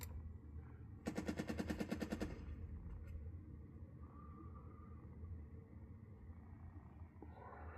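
A rapid machine-gun burst of about a dozen evenly spaced shots lasts roughly a second in the video game Burden of Command, followed by a low battlefield rumble and faint distant sounds, with no talking.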